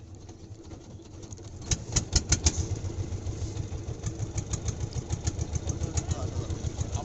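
A motorboat engine running on a river chugs steadily up close, its low drone turning to a sharper rhythmic thumping pulse after a rough start.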